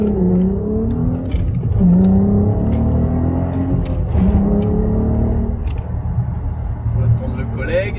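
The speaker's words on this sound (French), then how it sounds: "son des moteurs Atmo, c'est vraiment un pur bonheur" A naturally aspirated 170-horsepower VR6 in an Audi A3 8P revs loud and close, its engine note climbing and falling in repeated sweeps under steady cabin noise.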